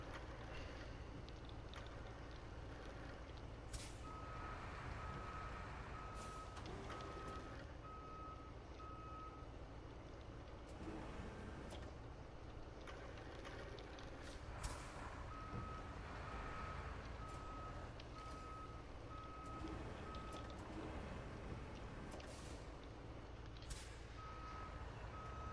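Repeated reversing beeps from a truck in the Road Craft video game, steady intermittent tones over a constant rumbling engine and ambient game noise, with no talking.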